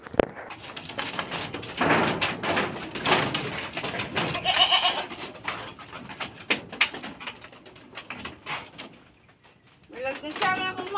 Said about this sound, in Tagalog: Nasaan na yung kambing? Ayun, nandito yung kambing natin.